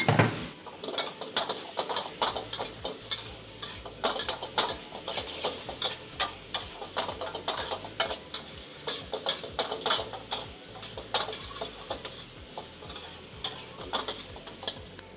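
Prawns stir-fried with brown sugar, fish sauce, oyster sauce and Thai basil on a home stove give a steady sizzle, broken by rapid, rhythmic scrapes and taps of a utensil against the pan throughout, close and without talk.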